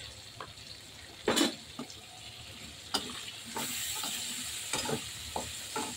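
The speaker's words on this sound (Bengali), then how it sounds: "এই আলুর সাথে এই পেঁয়াজ আদা রসুন একসাথে কষাবো" Potatoes sautéing in a pan with onion, ginger and garlic paste. A faint sizzle runs underneath occasional scraping stirs and a few sharper clatters of the spoon against the pan.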